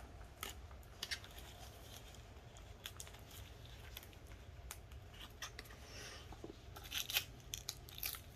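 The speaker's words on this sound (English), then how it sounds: "I'm just going to cut the package open." Scissors snip a plastic package open, a string of faint, crisp cuts and crinkles at close range against a quiet background, no talk.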